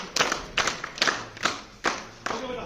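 Students in a school classroom quiz clap together in a few short, sharp bursts, each burst a loose cluster of hand claps separated by brief pauses, fairly close and moderately loud.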